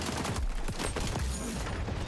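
Rapid gunfire in the video game XDefiant crackles in dense overlapping bursts, a continuous loud barrage of shots with no pause across the clip.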